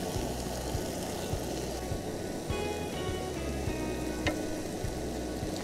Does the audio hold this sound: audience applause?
no